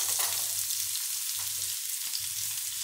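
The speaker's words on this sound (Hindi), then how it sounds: "मीडियम फ्लेम पे थोड़ी देर के लिए हम इसको भूनेंगे।" Raw mango pieces fry on a medium flame in a pan with cinnamon and green cardamom, making a soft, continuous sizzle with a low hum and occasional stirring taps.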